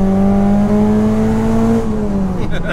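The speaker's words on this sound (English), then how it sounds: "Second gear. Let that rev out, boy." A Ford Racing Puma engine revs out hard in second gear, a loud, steady rising drone heard from inside the car, with the pitch dropping sharply near the end at the shift.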